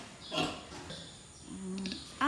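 Piglet grunting in a few short, faint snorts close by on a farm, with quiet background noise between them.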